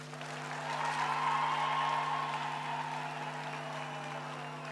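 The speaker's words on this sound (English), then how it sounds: "Let's give our graduates another round of applause." Audience at a graduation ceremony applauding the graduates, a soft, distant, sustained patter of clapping over a steady hum, swelling slightly and then easing off.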